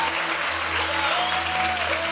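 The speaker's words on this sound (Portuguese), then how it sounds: "Se você crê nisso, você pode aplaudir no seu lugar." A church congregation claps in place during a sermon, producing steady, full applause from many people over a low sustained organ-like tone, continuous for the whole stretch.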